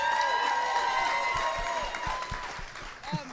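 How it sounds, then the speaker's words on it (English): Studio audience applause and cheering for a guest at a live comedy podcast taping. A crowd claps and whoops with a scattering of distinct claps, and voices carry over the noise as it fades. "Guys, please, a round of applause for Liz Merriweather."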